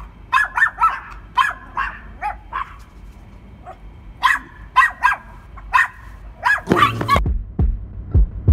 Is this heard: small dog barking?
yes